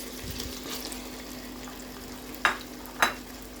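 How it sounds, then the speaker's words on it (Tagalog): Potatoes and carrots frying in hot olive oil in a pan, a faint steady sizzle with two sharp scraping clatters of stirring near the end. "Once our olive oil hot, let's fry our prepared potato and carrots"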